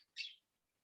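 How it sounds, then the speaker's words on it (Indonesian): A lovebird at a house gives a single short, sharp chirp, close and clear, with near silence before and after. "di rumahnya Audin ini ada suara burung-burungan ini ya]], Din ya"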